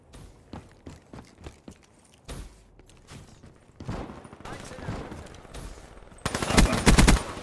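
Video game gunfire arrives as a string of sharp single shots, then a denser, louder automatic burst toward the end, close and punchy against quieter game ambience.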